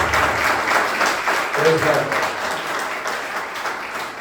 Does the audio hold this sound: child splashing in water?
no